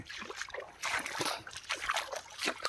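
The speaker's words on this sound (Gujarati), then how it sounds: "ખૂબ ઝડપથી પાણી આગળ વધી રહ્યું છે જુઓ મિત્રો આ રીતનું પાણી ફરી રહ્યું છે" Floodwater flowing across salt pans, a faint, close trickling and sloshing with small splashes in an irregular rhythm, no voices.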